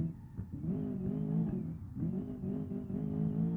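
A luxury grand tourer car engine in BeamNG.drive, heard from the interior camera: a steady, smooth hum with a slight rise in revs, moderately loud and continuous, with no talking.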